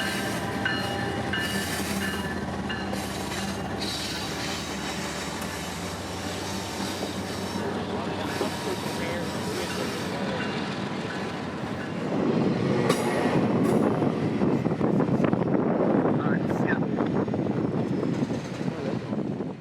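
A CSX intermodal freight train, I-155 running from Fairburn near Atlanta to Memphis, rolls past on the W&A main line. A steady rumble of wagons builds into a louder, rattling roar of wheels toward the end, with no talk.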